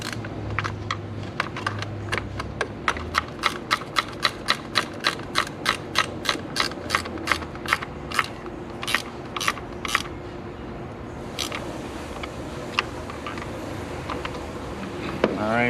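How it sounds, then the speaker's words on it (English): A ratcheting 10 mm socket wrench tightens the battery hold-down on a 2020 Toyota Corolla, a rapid run of crisp close clicks that slows into spaced strokes and then stops. "we're gonna get a 10 millimeter just to tighten this back"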